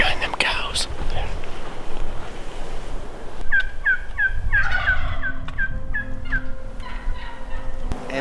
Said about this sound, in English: it ain't 5 minutes after we set up to hear one gobble